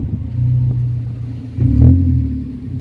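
A powerful Aston Martin DB11 V12 engine revs up nearby in a racetrack parking lot, a steady low rumble swelling into a louder surge before settling back.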